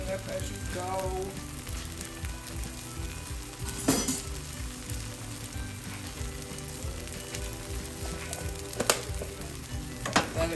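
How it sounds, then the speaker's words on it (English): Plant-based Just Egg bubbling and sizzling in a frying pan, a steady close crackle with occasional sharp metallic clinks and scrapes from the pan being shaken. "Let it bubble."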